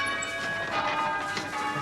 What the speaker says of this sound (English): stop ringing the bells